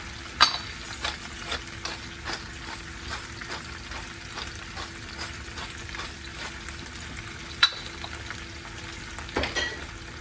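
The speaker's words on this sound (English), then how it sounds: "Give it a bit of a stir." Potatoes and peppers are fried and stirred in a frying pan, giving a continuous sizzle and hiss with regular scraping strokes of the utensil and a few sharper knocks against the pan, close up, with no talking.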